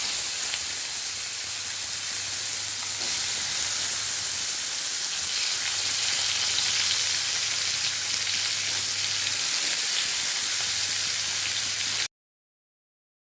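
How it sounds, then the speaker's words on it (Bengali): Potato pieces fry in oil seasoned with bay leaf, small cardamom and cinnamon, giving a dense, even sizzle that runs close and steady for about twelve seconds with a faint low hum underneath, and no voices. "এবার এই তেলে আমি তেজপাতা আর ছোটো এলাচ আর দারচিনি দিচ্ছি, দিয়ে এবার আলুটা ভেজে নিচ্ছি"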